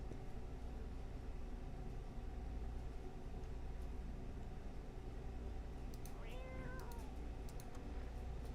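A cat in a video game gives a brief meow about two-thirds of the way through, faint and mostly buried under a steady, loud background hum.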